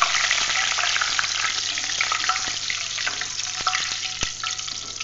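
Curry leaves fry in hot oil with kara boondi, making a loud, continuous sizzle with scattered sharp crackles and pops up close.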